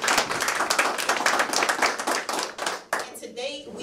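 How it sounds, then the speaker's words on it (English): Steady, brisk hand clapping from a crowd, dense and continuous, thinning out near the end as a few claps and murmurs remain. "And I'm going to clap to that."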